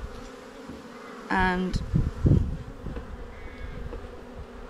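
Honeybees buzzing around an opened beehive during an early-season inspection, a continuous nearby hum rising and falling beneath a voice speaking close by.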